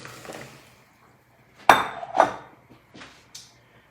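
Pickled eggplant pieces are dropped into a pot of boiling water in a home kitchen, producing a few sharp clanks and knocks against the pot, with a quiet, soft pause before them.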